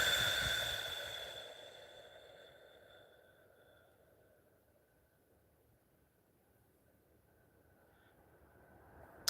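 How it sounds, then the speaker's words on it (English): A slow, deep exhale during a breathing exercise, loud at first and fading into near silence, with a faint click at the end. "Okay, so we're going to take 3 deep breaths."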